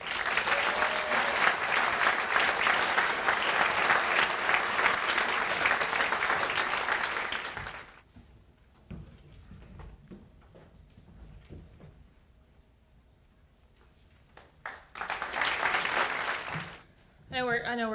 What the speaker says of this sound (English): I know we're clapping a lot this evening